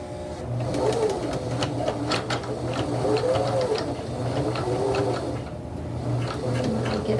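A sewing machine stitches a fabric scrunchie with a steady, continuous mechanical whir and rapid needle clatter, close and fairly loud throughout with no talking.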